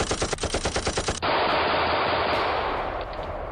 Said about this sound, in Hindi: ईरान की राजधानी तेहरान में हाई सिक्योरिटी काफिले पर हैवी फायरिंग होती है।